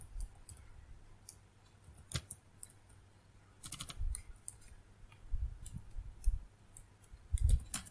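A computer keyboard being typed on, heard as soft, sparse clicks and taps at an irregular pace, fairly quiet and close, with no talking.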